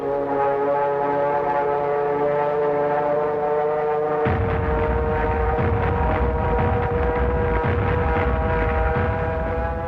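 World War II Japanese propeller fighter planes fly overhead with a loud, continuous droning engine roar and steady harmonic hum that thickens midway, with no voices.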